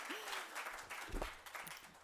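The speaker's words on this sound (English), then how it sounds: "You don't have to clap again for me, but this guy." Faint, distant applause from an audience at a design review presentation, a soft, steady patter of clapping lasting a couple of seconds with a brief voice sound over it.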